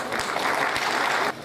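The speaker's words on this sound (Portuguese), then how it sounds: "Receba com a salva de palmas aí" An audience applauds an honoree at a Detective Day ceremony, a dense burst of clapping lasting just over a second before dropping off sharply.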